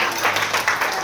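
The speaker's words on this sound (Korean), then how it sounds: "네, 여러분 큰 박수 부탁드리겠습니다" Guests at a Korean first birthday party break into a short burst of clapping, a dense patter of many hands at moderate volume lasting about a second.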